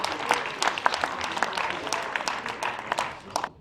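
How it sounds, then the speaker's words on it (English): Crowd at a wildlife fundraiser auction claps for a winning bidder, a dense burst of applause with some louder individual claps standing out, steady for several seconds then thinning. "Give him a round of applause right there"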